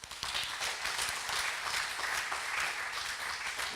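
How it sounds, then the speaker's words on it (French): Audience applause for companies receiving a CSR label at an award ceremony, dense steady clapping from a sizeable crowd, fairly near and continuous throughout. "Je pense qu'on peut tous les applaudir très fort."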